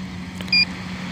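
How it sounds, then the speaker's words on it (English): A single short electronic beep from a one-minute flight timer sounds once, brief and clear, over a steady hum and wind noise during a glider flight test. "That was the 1 minute beep."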